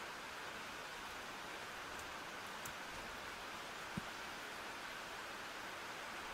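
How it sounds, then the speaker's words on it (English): Steady rain in the video game If Found, a soft even hiss of falling drops that stays constant throughout, faint and continuous with a tiny thump near the middle. "Ah, the nice, calming, soothing sounds of rain."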